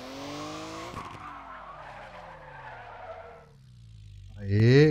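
Drift car tires skidding and squealing in a video game, a long sliding screech with engine tone that fades mid-clip, then a louder rising squeal near the end.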